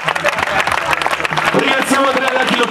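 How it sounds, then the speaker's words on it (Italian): Arena crowd applauding for a performer named Kappa, dense clapping and crowd noise mixed under music with tonal layers throughout. "un applauso per Kappa."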